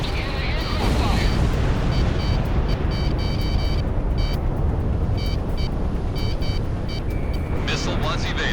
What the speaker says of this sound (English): I'm also taking anti-aircraft fire.